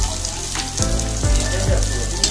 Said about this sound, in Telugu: ఇప్పుడు ఆనియన్స్ వేసుకున్నాము.